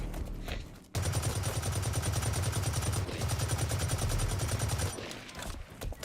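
Rapid video game gunfire from a weapon in a shooting game, a dense, loud burst of fast repeated shots that runs for about four seconds with a brief break, then tails off.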